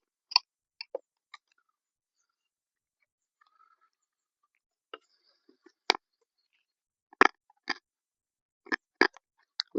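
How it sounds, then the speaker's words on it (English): Sugar-free hard candy being crunched while eaten, heard as scattered, close, sharp crunches and clicks separated by quiet stretches. "If you hear a bunch of crunching going on, because I'm eating a piece of candy."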